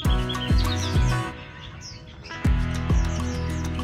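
Songbirds such as magpie-robins chirp at a busy Hanoi street bird market, bright high calls scattered over low knocking thumps and a steady crowded background.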